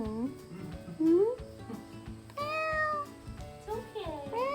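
A big cat on an Iowa farm meows repeatedly, several drawn-out rising and falling cries close by, with a person's soft talking in between.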